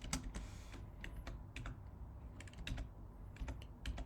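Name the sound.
typing on a computer keyboard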